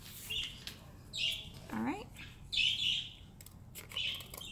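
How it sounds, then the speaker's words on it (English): Pet budgies chirp in short, high bursts scattered through the clip, fairly faint and in the background, while a person speaks briefly over a low room hum. "If you guys can hear, there's some birds chirping. Those are our budgies"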